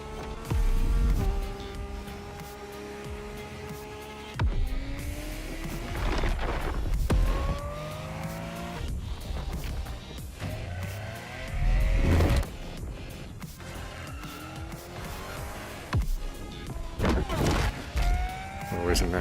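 Racing cars in the PS5 game The Crew: Motorfest: engines rev and climb through gear shifts amid sharp crash and impact noises, with voices talking over the driving throughout.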